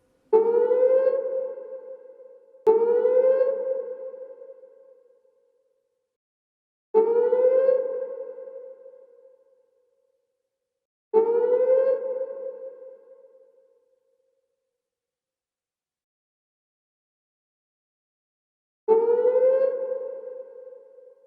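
A police siren reshaped with compressor, reverb, phaser and chorus into a Star Wars speeder bike effect: five separate tonal bursts, each starting sharply and fading out, with silent gaps between them.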